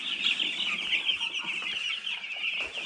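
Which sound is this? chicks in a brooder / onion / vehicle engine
chicks in a brooder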